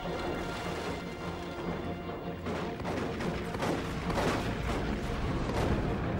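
In a Warhammer battle game, a lascannon fires at a Blood Crusher amid dense battle noise. Booming blasts and crashing impacts pile up in a loud, continuous barrage.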